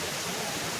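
A waterfall at Amboli Ghat pours in a continuous, dense rushing hiss, heard briefly and close.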